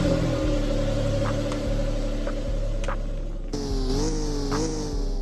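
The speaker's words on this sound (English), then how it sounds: "the first vehicle we're going to start out with is the Testarossa." A Ferrari Testarossa engine from the Driving Empire game idles with a steady, low, droning hum. Partway through, the pitch climbs and wavers as the car revs, staying close and continuous with no talking.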